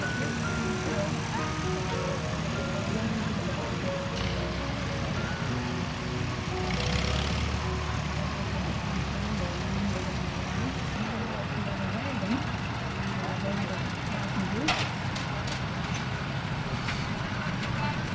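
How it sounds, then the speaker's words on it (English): Old tractors and cars idle in a low, continuous engine rumble as they line up before a parade at the Jocelyn Township Harvest Festival, with a few faint clanks and knocks over the steady drone. "a grand parade of tractors and cars got underway"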